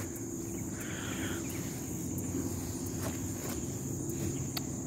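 Steady, dense insect chirping fills the background, a continuous shrill buzz with faint rustling and a few clicks, no voices.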